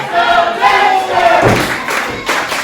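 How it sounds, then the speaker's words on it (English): Crowd noise at a wrestling match in the Stride Pro Wrestling: Reality Reborn video game, a roaring cheer with a heavy thud from the ring partway through. "Fans now cheering for Dexter."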